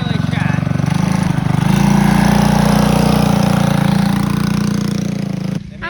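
Mini bike engine running at an outdoor gathering, a loud close steady buzzing drone with a slight rise in revs partway through before cutting off near the end, with people talking over it.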